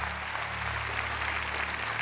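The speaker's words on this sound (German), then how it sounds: "Ihr bekommt ihn auch den riesengroßen Applaus." Dense, steady applause from a crowd at a German championship competition, continuous clapping filling the space at moderate loudness with a low hum underneath.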